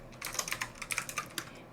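Typing on a computer keyboard while a layer is labelled in Photoshop: a quick run of a dozen or so light key clicks in an uneven rhythm, close and clear, with no talking.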